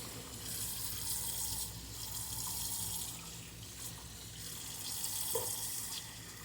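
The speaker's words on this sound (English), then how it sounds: "I'm just rinsing them again as I toss them over" Fresh blackberries rinsed under a running kitchen tap, a steady close hiss of flowing water with slight swells and splashes as the berries are tossed in the stream.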